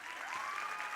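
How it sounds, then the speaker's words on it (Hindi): Steady, dense applause from a preschool event audience cheering young children after a dance performance, filling the whole second at moderate loudness with no talk over it. "इनके लिए जोरदार तालियां।"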